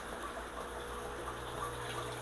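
Rainwater pours steadily into a fish tank for corydoras breeders, a continuous soft gushing and splashing of water that runs evenly throughout with no talk.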